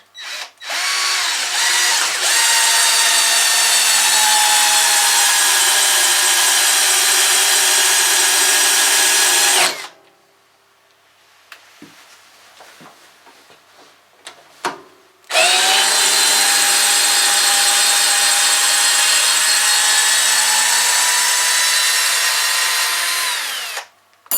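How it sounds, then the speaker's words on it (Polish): A YATO 12V compact cordless screwdriver drives a long screw in two loud, sustained whirring runs separated by a quiet pause with a few light clicks. There is no talk. "to jest długi wkręt, a mimo wszystko jedną ręką można go spokojnie wkręcić"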